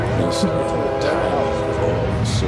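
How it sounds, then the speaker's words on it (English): A Tri-Rail commuter train passing near Linton Boulevard and South Congress Avenue in Delray Beach, Florida, with a steady loud rumble of cars on the rails and a sustained horn tone, talk faintly mixed in. "There goes the train."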